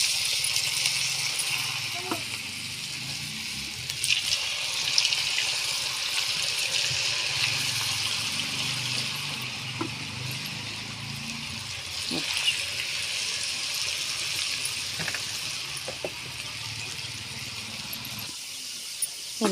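Drumsticks frying in hot oil on a stove, giving a continuous bright sizzling hiss that holds steady throughout, with occasional soft pops and clinks nearby.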